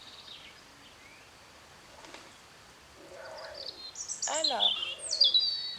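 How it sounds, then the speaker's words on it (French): Pigeons calling from overhead, with bird chirps and soft cooing rising toward the end, fairly faint at first and growing louder, behind a brief spoken word. "j'ai des pigeons qui sont en train de se, de se rapprocher en haut"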